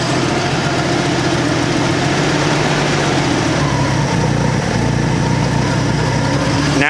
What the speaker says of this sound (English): That's how it should start on propane.